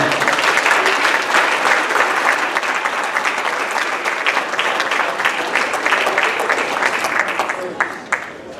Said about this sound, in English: one more big round of applause for all of our athletes.